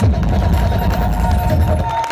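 A large crowd at Ruiru Stadium keeps up a dense, loud, continuous wash of applause and cheering at a church gathering, with no quiet gaps.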